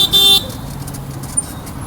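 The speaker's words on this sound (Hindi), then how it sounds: "मेरे आगे आप लोग ट्रैफिक देख रहे होंगे कितनी है।" Evening road traffic on a busy route between Delhi and Gurugram, with a short car horn toot up front over a steady rumble of engines and passing vehicles.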